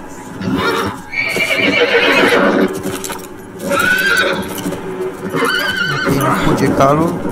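Horses neigh and whinny loudly in the Diablo 4 action role-playing game, three long whinnies with hoof clip-clop beneath them, close and prominent.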